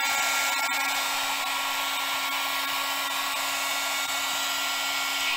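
A 3-in-1 thermal weeder running on setting 1 gives off a loud, steady, unbroken roar like a hair dryer, close and constant with a faint tonal hum underneath.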